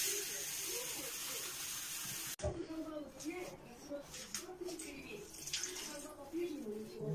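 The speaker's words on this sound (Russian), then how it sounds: "Сейчас добавим еще водички. И пусть еще маленько покипит." Water is poured into a pot of home-cooked chicken soup with vermicelli, giving a steady splashing hiss for about two seconds, then a stop and a clatter, followed by quieter kitchen sounds while someone talks.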